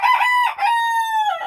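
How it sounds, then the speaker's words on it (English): A rooster crows in a homestead chicken coop on a snowy, windy afternoon: one loud, close, drawn-out cock-a-doodle-doo with a brief break early on, heard alone. "Cock-a-doodle-doo!"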